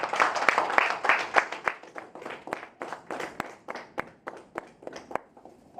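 An audience claps and applauds to welcome a speaker at a felicitation ceremony for a legislator held by an Uttarakhand association, a steady burst of many hands that gradually thins out toward the end.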